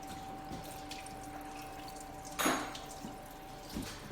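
Antifreeze drains from a GM 3800 Series II engine on a 1996–1999 Buick LeSabre into a bucket, giving faint close drips and one brief louder splash partway through.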